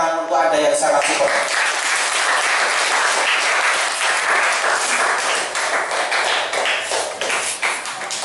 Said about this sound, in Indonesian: Tepuk tangan untuk Anda yang sangat support.